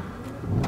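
A 2012 Rolls-Royce Ghost engine starting at the push of a button, a short low rumble that rises and settles, heard close from inside the car.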